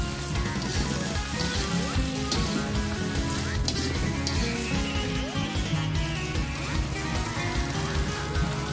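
Sliced red and green chilies fry in a hot pan for a Japanese tofu dish in oyster sauce. The sizzle is a steady, close, crackling hiss that continues unbroken without any talk.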